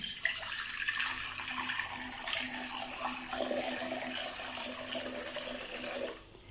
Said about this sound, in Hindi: एक कढ़ाई मैंने ले ली है और अभी इसमें 2 गिलास पानी ऐड कर देंगे।